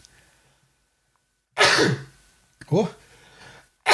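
A single sharp sneeze bursts out after a quiet stretch, followed by a short voiced exclamation and the start of further talk.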